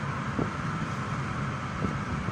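Steady car engine drone while driving at about 80 km/h, with wind noise over the body, continuous and fairly loud throughout, no voices.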